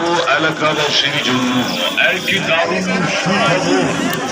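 Cattle lowing at a busy rural cattle market, with deep calls rising over constant crowd chatter and background hubbub.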